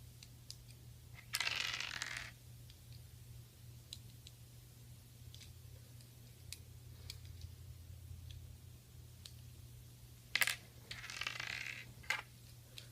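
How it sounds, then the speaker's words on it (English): Small bolts are fitted to secure the arms of a plastic model kit: sparse, quiet clicks and taps, with two brief scraping rattles of parts being handled. "Now we're going to put the bolts in to secure it"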